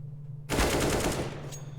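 A rapid burst of automatic gunfire in Counter-Strike: Global Offensive during a competitive match erupts suddenly after a quiet moment, then rattles on loud and continuous.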